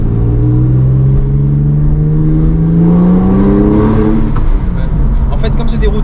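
A Porsche accelerates hard on an everyday road, its engine note rising steadily in pitch as it pulls through the gear, loud and close throughout with a brief dip near the end.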